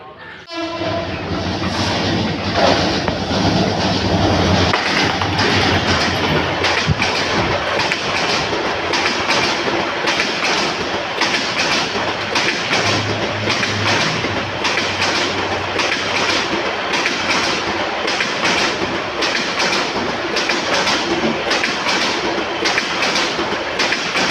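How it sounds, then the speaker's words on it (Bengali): The Dhaka Mail train from Chittagong arrives at Bhairab Bazar junction in Bangladesh: a loud, sustained horn blast opens over the rumble of the locomotive, followed by continuous rhythmic clatter of wagons rolling close by. "চট্টগ্রাম থেকে সেরে আসা ডাকাগামী ঢাকা মেল ট্রেনটি বৈরবাজার জংশন এসে পৌঁছাইবে"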